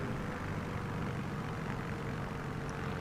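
A Beechcraft propeller plane in Microsoft Flight Simulator 2024 on PS5 drones with a steady, even engine roar, moderately loud and continuous with no talking.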